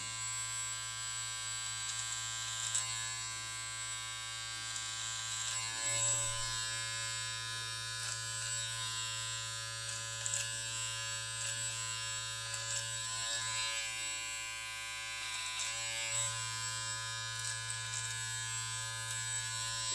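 A Brio electric beard trimmer trims a mustache, giving a steady, close electric buzz that runs the whole time with slight changes as the cutter moves through the hair, and no talking.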